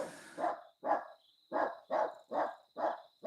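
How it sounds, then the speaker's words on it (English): A dog barks repeatedly at a distance, seven fairly even barks in a steady rhythm, faint, with a thin high tone running beneath. "Suddenly, all of my processing power is being taken up by dog barks."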